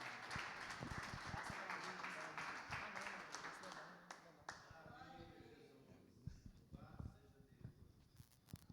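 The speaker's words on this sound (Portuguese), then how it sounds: "Mais palmas que exalta o Senhor." A church congregation claps along during a worship service, irregular hand claps mixed with talk, loud and busy at first, then thinning into scattered, sharper claps.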